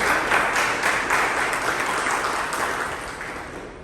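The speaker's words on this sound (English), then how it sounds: "Let's give them a big round of applause." Audience at a speaking meeting applauding, a dense steady wash of many hands clapping that stays loud throughout and tapers slightly at the end, with no talk over it.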